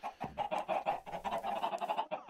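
Chickens in a farming video game cluck in quick, choppy bursts, several close-together calls overlapping in an uneven rhythm, loud and near with no talking.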